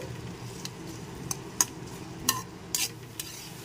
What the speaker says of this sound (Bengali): পেঁয়াজটাকে একটু নেড়ে চেড়ে ভেজে নিতে হবে